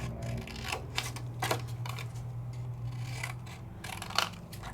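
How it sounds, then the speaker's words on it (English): A piece of paper is cut into a square by hand with scissors, heard as a close series of crisp, irregular snips and rustles with no talk. "Just grab a piece of whatever and cut yourself out a square"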